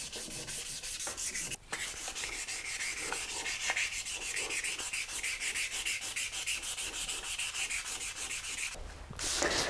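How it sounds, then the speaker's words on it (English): Sandpaper rubs back and forth over the painted surface of a carbon bike frame, a steady close scraping that runs almost without pause, with only brief breaks near the start and end. "You can sand it down until you have a flat surface,"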